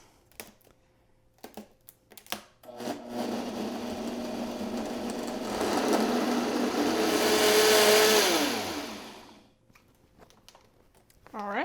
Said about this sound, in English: I like these little small blenders here. They work perfect for dressings.